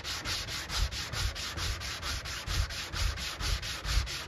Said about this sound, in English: I'm sanding down this area now,